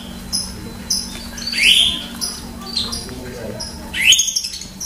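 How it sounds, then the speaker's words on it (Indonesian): Many lovebirds kept at a breeder's house chirp near the microphone, giving a scatter of short sharp calls with a few louder rising sweeps, with no talk over them. "Ternyata lovebird-nya juga masih banyak"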